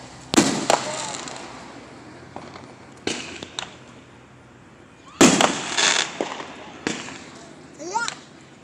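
Fireworks burst outdoors during a family July holiday outing, a series of sharp explosions spaced a few seconds apart, some followed by crackling and one with a rising whistle, with faint voices in between.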